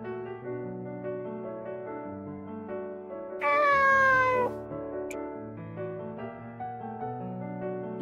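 A cat gives a single clear meow midway, close and loud, over a background of sustained music tones.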